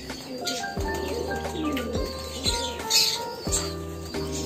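Pigeons of several kinds kept in cages in a large collection, cooing and calling continuously at close range, with repeated low coos and some higher chirps and brief wing flaps.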